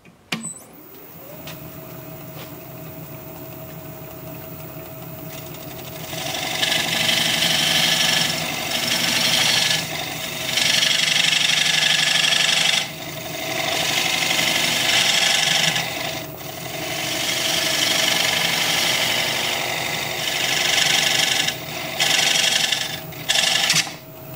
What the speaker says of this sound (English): I'm going to be starting with a 3/8 inch swept-back bowl gouge, and we'll be turning just over 700 RPM